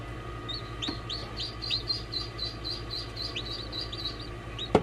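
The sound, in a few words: ducks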